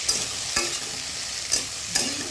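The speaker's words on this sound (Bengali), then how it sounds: "টমেটো আলু ঝিঙে ভালো করে একটু ভেজে নেবো।" Tomato, potato and ridge gourd frying in a pan, a steady sizzle broken by four sharp scraping stirs of a spatula, close and alone with no voice.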